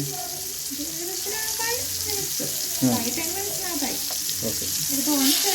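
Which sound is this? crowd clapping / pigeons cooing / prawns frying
prawns frying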